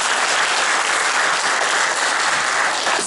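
Sustained audience applause at a love song concert in Jarosław, loud and dense, steady clapping from a large crowd throughout with no voices over it.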